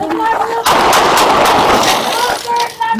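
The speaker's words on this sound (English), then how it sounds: "Shots fired! Shots fired!" Gunfire from a police shooting cracks out in a rapid burst of loud, close shots with harsh echoing tails, under a steady din of background noise.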